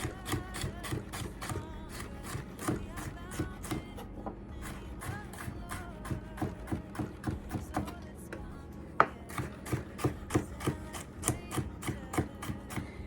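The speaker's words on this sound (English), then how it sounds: "I have my knife. I'm just gonna give these a really fine mince so that we can get these into the food processor" A kitchen knife mincing food finely on a cutting board, quick steady chops repeating close up, one sharper knock near the middle.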